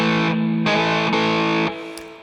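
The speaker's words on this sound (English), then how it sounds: "the harder you attack the strings, the more the distortion kicks in" An electric guitar plays a blues rock riff through heavy distortion, with loud sustained chords struck in three hard attacks before the sound drops back to a softer ringing tail.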